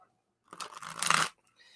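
A deck of tarot cards is shuffled in a single brisk, papery riffle that lasts under a second. It is close and fairly loud, and quiet comes before and after it.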